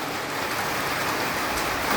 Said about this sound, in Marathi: आता मस्त पाऊस पण चालू झालेला